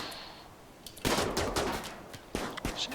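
Charge rifle in RimWorld firing rapid bursts, two clusters of sharp, close shots separated by a short pause.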